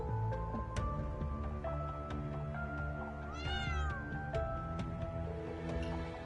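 A cat in the Trails video game gives one clear, rising and falling meow over soft game music, heard alone without talk.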